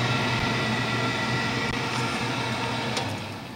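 A 1980s Amana Air Command 90 gas furnace blower runs with a steady broadband whoosh and faint mechanical hum, close and continuous, easing slightly toward the end.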